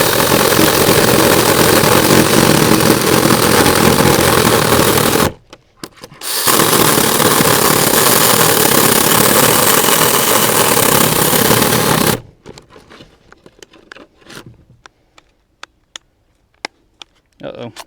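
Tomyvic 6-inch battery mini chainsaw cutting through a knot in a thick hickory plank, a loud continuous buzzing cut with a brief pause midway, then stopping abruptly, followed by quiet clicks.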